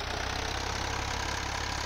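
A modified tractor engine idles in Farming Simulator 22, giving a steady, dense, close rumble with a low, even pulsing beat and no voices.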